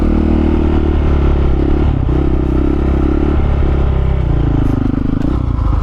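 Supermoto motorcycle engine held at steady revs in second gear for balance point wheelies, a loud close continuous drone with slight pitch dips and swells, no talking.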